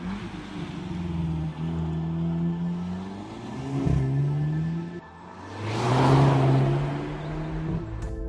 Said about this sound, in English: the 2-litre turbocharged engine pulls really strongly through the mid-range